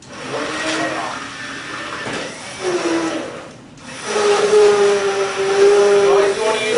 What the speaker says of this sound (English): You always want to use a stick blender because this is the only way to really make the alginate rehydrate in the liquid